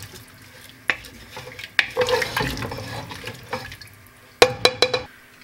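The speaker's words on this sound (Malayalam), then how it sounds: "ഇനി ജസ്റ്റ് നമുക്ക് ഇതൊന്നും കൂടി ഒന്ന് മിക്സ് ചെയ്യാം" Ingredients are stirred together with one and a half cups of water in a pressure cooker. Close, irregular scraping, sloshing and sharp clinks of a utensil against the pot come in short bursts, and no one speaks.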